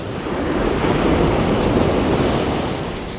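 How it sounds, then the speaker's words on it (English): Aggressive ocean waves crash and wash up a beach during an early-morning metal detecting hunt, a loud, continuous broadband roar of surf close by with no talking. "These waves are getting awfully aggressive."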